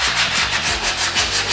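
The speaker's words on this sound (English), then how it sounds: "sanding by hand" Hand sanding on a car body panel of a 1934 Ford Coupe, a steady scratchy rubbing in back-and-forth strokes, close and fairly loud with no talking.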